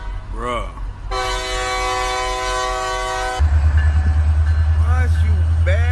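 A train sounds one long, loud, steady horn blast, followed by rumbling wagons and rhythmic clattering wheels, with brief voice-like chirps before and after.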